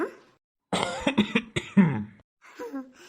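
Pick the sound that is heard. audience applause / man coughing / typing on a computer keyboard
man coughing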